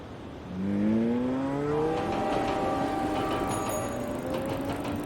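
A car engine revs up and accelerates hard, its pitch climbing in rising sweeps as it speeds past, loud and close.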